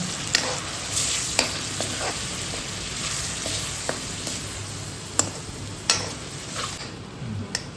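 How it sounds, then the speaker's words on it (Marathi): Gravy sautéing in a pan gives a constant loud sizzle, with a spoon stirring and scraping through it and occasional sharp knocks against the pan. "ही ग्रेव्ही नाही का मस्त मित्रांनो मस्तपैकी हिला आता आपल्याला परतवून घ्यायचं आहे"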